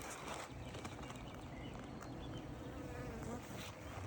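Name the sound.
honeybees buzzing around an open beehive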